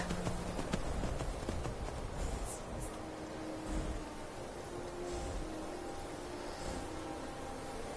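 Horse hooves clip-clop in Skyrim VR, with a rhythmic run of hoofbeats early that settles into sparser steps over a steady noisy background.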